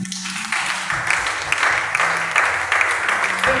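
A church congregation at a Sunday worship and thanksgiving service breaks into steady applause, a dense wash of many hands clapping in a reverberant hall, moderately loud and sustained throughout.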